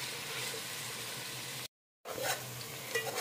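Three large onions sizzle steadily in hot oil in a pot, a close, soft crackling hiss that cuts out briefly and then resumes with light stirring.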